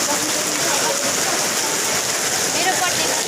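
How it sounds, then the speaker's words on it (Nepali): Heavy monsoon rain pours down in Kurseong, a loud, dense, unbroken hiss of downpour that fills the whole stretch with no pauses. "डरलाग्दो पानी पर्यो यहाँ त खरसाङमा"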